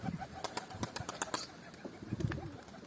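Pigeons' wings flap in several sharp bursts as the birds settle, with soft cooing and rustling in between, moderately distant.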